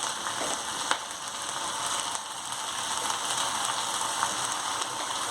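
Cumin and salt sizzling in hot oil for brinjal palya, a dense, steady crackle close by with a few faint clicks from the pan, with no voices.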